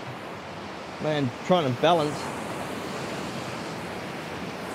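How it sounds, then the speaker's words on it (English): Ocean waves wash steadily over the rocks at Burleigh Heads beach in a constant broad roar, while someone speaks briefly near the start. "Here comes a huge wave. All right, here comes a big wave."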